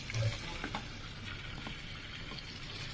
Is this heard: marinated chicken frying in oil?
yes